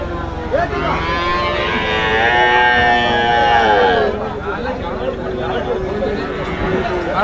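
Cattle low repeatedly in a long, rising and falling moo at Melapalayam cattle market, close and loud over a crowded background of chatter and voices.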